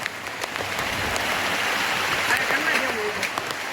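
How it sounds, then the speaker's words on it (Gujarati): Heavy monsoon rain pours steadily in the Girnar hills near Junagadh, a dense, continuous hiss of falling water that stays loud and even throughout, with people talking faintly underneath. "વરસાદ ફૂલ કઈ દેખાતું નહીં આમાં"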